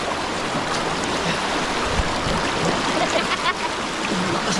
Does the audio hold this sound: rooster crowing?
no